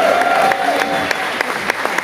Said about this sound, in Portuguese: Agradeço, palmas para essa banda maravilhosa.